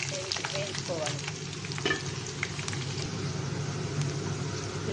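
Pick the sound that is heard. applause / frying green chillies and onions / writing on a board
frying green chillies and onions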